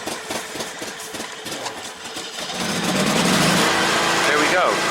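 Small engine on a garden machine left unused, cranking then catching after the choke is pulled and settling into a loud steady running drone, with someone talking over the start.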